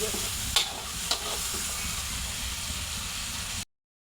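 Chicken meat sizzles steadily in a hot pan, with a couple of sharp spatula scrapes as it is stirred, then the sound cuts off abruptly.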